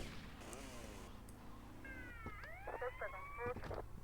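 A police siren wails in sweeping tones over a low background hum, with a faint voice underneath, fairly quiet overall, in the video game Grand Theft Auto: Vice City.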